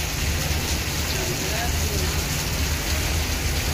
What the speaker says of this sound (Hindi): बारिश कितनी तेज़ हो रही है फैक्ट्री में।